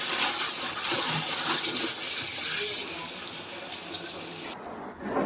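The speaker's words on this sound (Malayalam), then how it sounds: "ഇനി സഞ്ചി ഇട്ടത് കഴുകി വെക്കട്ടെ." Running tap water splashes steadily into a sink as a cloth shopping bag is washed, a loud continuous gush that cuts off abruptly near the end.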